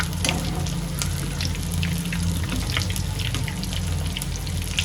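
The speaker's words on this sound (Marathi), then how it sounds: "सगळे चीज बॉल मी टाकून घेतले तेलामध्ये" Chicken cheese balls deep frying in oil over a low gas flame, a steady soft sizzle with scattered small pops and crackles, continuous and close, with no talking.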